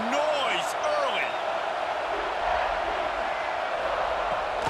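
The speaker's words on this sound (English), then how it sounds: "This crowd bringing the energy and noise early." Stadium crowd in College Football 26 during a Utah versus South Carolina game, a steady roar of fans under a commentator's voice, with whistle-like tones and shouts rising near the start.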